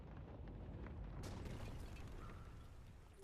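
A deep, rumbling cannon salvo in the video game The Bazaar booms out with a sharp crack, then rolls into a long, heavy roar that lingers without fading much.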